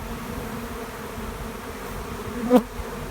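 Honeybees hum steadily at the hive in a soft, continuous buzz at close range, with one bee briefly zipping past louder.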